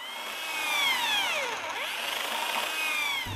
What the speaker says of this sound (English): How do I drill to the right depth?